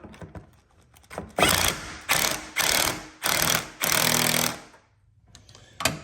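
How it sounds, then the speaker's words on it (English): A power driver with an 8mm socket tightens a radiator hose clamp on a Fiat 500 Abarth, whirring in five short bursts separated by brief pauses, near and fairly loud. "we're going to use that 8mm socket again, just to tighten it down"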